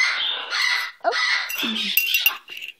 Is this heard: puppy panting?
no